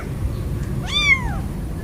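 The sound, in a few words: kitten meowing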